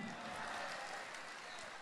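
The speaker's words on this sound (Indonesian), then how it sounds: "Tepuk tangan buat Kamidi." Dense applause from a stand-up comedy audience in Indonesia fills the room at a steady, even level, a continuous wash of many hands clapping with no pauses.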